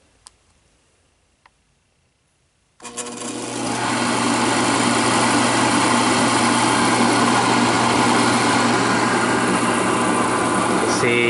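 A Fairbanks Morse light plant generator spins up after a few seconds of near silence, its engine rising to a loud, steady running drone close by.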